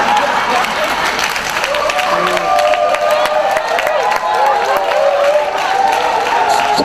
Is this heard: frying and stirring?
no